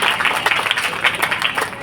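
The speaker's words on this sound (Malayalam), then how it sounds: "ആ രക്ഷിതാക്കൾക്ക് ഹൃദയം നിറഞ്ഞൊരു കയ്യടി കൊടുക്കാം" Audience clapping for the parents at a school gathering where a speaker addresses the crowd: a brief, dense burst of many hands applauding together, steady and fairly loud throughout, with no voices over it.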